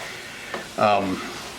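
Hamburger steak Diane ingredients frying in a pan give a brief sizzle with a quick scrape of stirring, lasting about a second, close and moderately loud.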